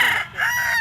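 A bulik gold yellow-legged stag rooster crows loudly and close, a short strained cock-a-doodle cut off before it finishes.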